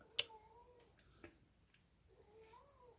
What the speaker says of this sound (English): Can you hear him meowing in the background?